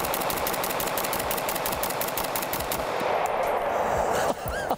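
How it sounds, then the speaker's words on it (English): FN SCAR 20S semi-automatic rifle emptying twenty rounds as fast as possible at an outdoor range, a loud, rapid string of closely spaced shots with echo, ending abruptly. "Let's just see how fast I can clear, I don't know, 20 rounds with the SCAR 20."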